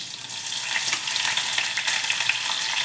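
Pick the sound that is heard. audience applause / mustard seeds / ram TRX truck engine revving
mustard seeds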